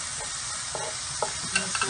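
Three cloves of minced garlic browning in a pan with Italian seasoning, giving a quiet, steady sizzle with a few soft stirring scrapes and clicks.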